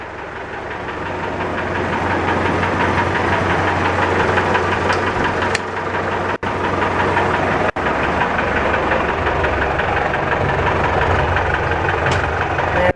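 A diesel IMT tractor engine runs steadily at idle, with a loud close chugging knock that holds constant throughout apart from a couple of brief sharp clicks.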